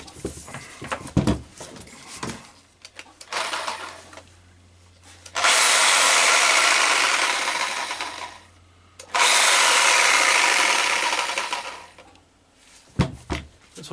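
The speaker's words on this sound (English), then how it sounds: "fire that up again" Makita JR3070CT reciprocating saw, freshly serviced with a repaired clutch and gearbox, runs with its blade fitted in two loud, steady buzzing bursts of several seconds each, close by, with handling clatter before and between them.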